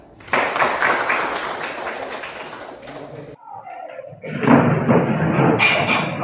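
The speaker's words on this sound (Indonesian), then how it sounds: "Oke, tepuk tangan." Classroom applause from students, a burst of clapping that fades, a short pause, then a second, louder round of clapping with some thumps.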